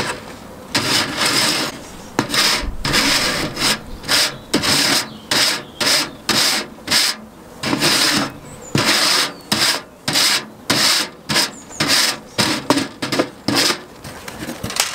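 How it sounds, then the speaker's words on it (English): A metal hive tool scrapes a fairly clean wooden beehive floor up close, making a steady run of short, rhythmic rasping strokes with brief pauses between them. "It's a fairly clean floor anyway, so just needs the briefest of scrapes."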